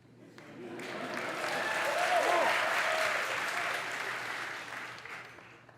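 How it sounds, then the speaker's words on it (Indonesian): Audience applause during a public lecture by Indonesia's President Jokowi at Georgetown University in Washington, D.C., a large crowd clapping that swells to a peak midway and then gradually fades, heard from a distance in a big hall. "Tepuk tangan untuk Georgetown Uni."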